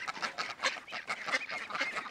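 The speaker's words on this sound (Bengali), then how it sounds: "এগুলো আমি এখন হাঁসগুলারে দিয়ে দেখবো ওরা খায় কিনা" Ducks being fed by a small pond call in a dense, close chorus of nasal quacks and honks that overlap rapidly and continuously.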